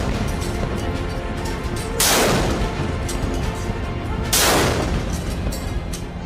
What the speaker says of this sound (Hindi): लाल किले में इस साल स्वतंत्रता दिवस समारोह के दौरान पहली बार स्वदेशी हॉविट्जर तोप 21 तोपों की सलामी का हिस्सा बनी।